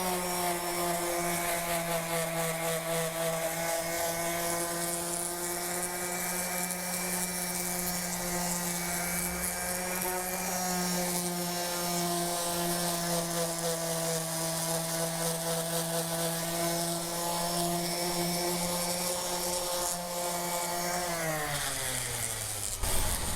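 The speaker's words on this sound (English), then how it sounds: "If you find any more bumps, go ahead and continue to sand to make sure it's complete." A wooden handrail being sanded with a power sander, giving a continuous steady whine and hum held evenly for over twenty seconds before winding down at the end, close by and with no voices.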